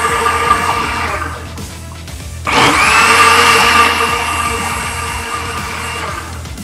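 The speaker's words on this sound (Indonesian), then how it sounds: "Oke, kita blender." An electric kitchen blender grinding ginger and sugar kicks in loudly partway through, a sudden high whirring roar that holds steady after a quieter stretch of background sounds.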